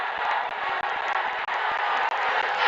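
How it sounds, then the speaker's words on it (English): Football stadium crowd roaring steadily through a long throw-in at an India versus Bangladesh match, a dense continuous wall of cheering with brief dips, loud and sustained, no clear speech. "And now the crowd getting behind the team."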